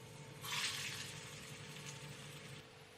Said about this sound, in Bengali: এই তেলে এই যে বলগুলো বানিয়ে রেখেছি এগুলো একটা একটা করে ভেজে নেব